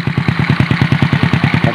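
A rebuilt Honda Dream motorcycle engine idles close by with a loud, steady, rapid putter of evenly spaced exhaust pulses, accompanied by a light mechanical clatter.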